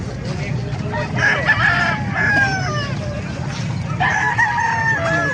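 A rooster crows loudly at a chicken market in Calumpit, Bulacan, sounding two long calls over a low crowd murmur and other fowl.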